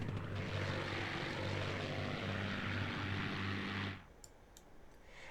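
A Rolls-Royce Merlin engine on a Battle of Britain fighter such as the Hurricane drones loud and steady for about four seconds, then cuts away abruptly, leaving only quiet background and a few faint clicks.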